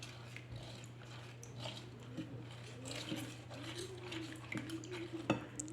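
Sugar is stirred in a pot for a dessert, giving faint, irregular scraping and clinking of a utensil against metal over a low steady hum, quiet and close.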